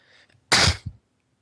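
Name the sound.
double sneeze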